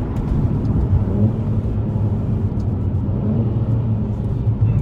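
A 2016 Mercedes-Benz C450 AMG 4MATIC engine heard from inside the car while driving on a wet road after rain, a steady low rumbling drone with no talking.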